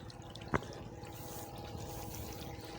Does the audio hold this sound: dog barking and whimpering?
no